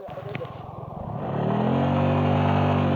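Several motorcycles on a road to Sajek, engines rising from a pulsing putter into a loud sustained drone as bikes pass close by, with a voice briefly under the start.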